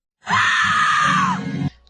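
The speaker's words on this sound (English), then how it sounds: "Scream." A loud, sustained scream from the animated film Pinocchio 3000, a single rising and falling cry lasting over a second that cuts off abruptly, heard alone without talk.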